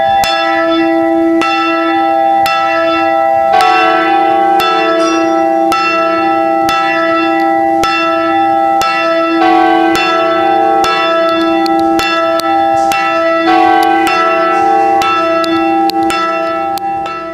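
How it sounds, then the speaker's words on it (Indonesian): A church bell rings repeatedly in a steady rhythm, each strike ringing out with a long, resonant hum that layers over the next. "Lonceng adalah alat bunyi yang biasanya digunakan untuk mengiringi ibadat sebagai tanda kegembiraan."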